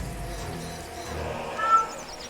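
A cat meows in the fantasy online game Tera, a single drawn-out call over a busy jungle soundscape, moderately loud with no talk.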